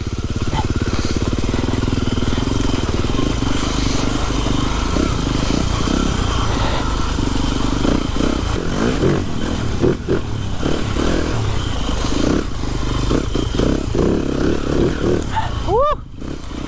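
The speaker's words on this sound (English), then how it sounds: "So this bike is for sale, TM 300 4-stroke." A TM 300 four-stroke motorcycle rides a wet track, its engine droning loud and steady throughout with rising and falling revs and clattering mechanical noise, close to the listener, with a brief rising whine at the end.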